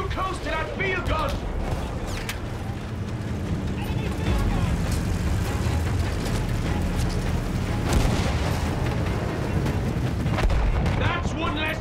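Heavy booming field gun artillery and gunfire in a Battlefield 1 battle, loud and continuous with dense explosions and rumble throughout, voices talking over the din.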